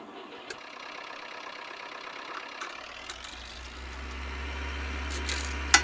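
Tractor engine idling on a farm, low steady rumble that starts a few seconds in and holds, with faint clanks and background noise, no talking.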